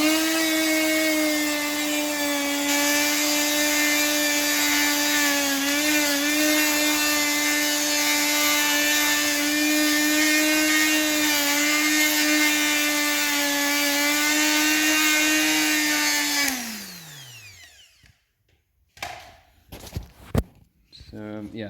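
A wire wheel on a power tool spins at steady high pitch, scrubbing the inside of a 1960 Ford Consul rear axle for about sixteen seconds, then winds down, followed by a few clanks.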